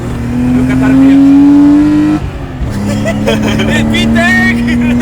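A BMW E30 car with a new engine hums loudly with a steady, rising engine tone, briefly easing off before climbing again, while people talk over it inside the car.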